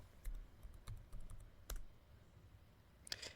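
Keystrokes on a computer keyboard while typing a command into a Linux shell, a series of quiet, irregular clicks spread over a few seconds, with a quick cluster of taps near the end.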